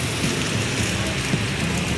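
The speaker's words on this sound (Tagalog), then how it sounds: "May uli, malakas na naman ang ulan." Heavy rain pours at a campsite, a dense, loud, unbroken hiss of drops drumming on surfaces, close and steady throughout, with no voices.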